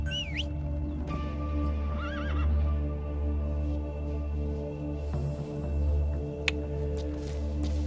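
A horse whinnies near the start against a steady low hum, followed by a few shorter electronic chirps and a faint click, in the video game Metal Gear Solid V: The Phantom Pain.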